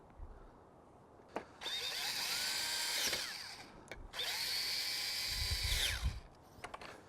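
A cordless power drill drives screws while a Bestop Trektop soft top is installed on a four-door Jeep Wrangler JK Unlimited, two close, loud whining bursts of a few seconds each separated by a brief pause, with clicks around them.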